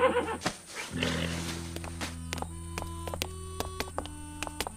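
Horses in a radio drama set in a dusty western town snort and whinny over a low steady hum, with scattered hoof clops and thumps continuing alongside.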